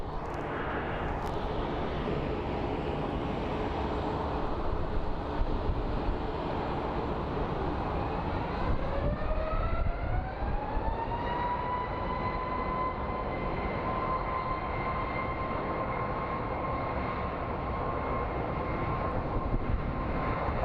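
A Breeze Air airliner at Phoenix Sky Harbor airport roars steadily, its engine whine rising in pitch partway through and then holding as a loud, continuous drone.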